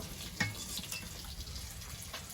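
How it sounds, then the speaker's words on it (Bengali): A Bengali fish and taro curry is sautéed in a hot pan, giving a faint, steady sizzle with a sharp utensil clink early on and quiet scraping, no one speaking. "এবার কষে তরকারিটা চাপিয়ে দেব"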